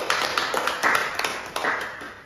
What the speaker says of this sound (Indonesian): Beri tepuk tangan untuk Ibu Peta